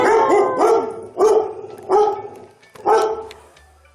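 Several dogs barking indoors, loud close bursts repeating about every second with brief gaps, no talk.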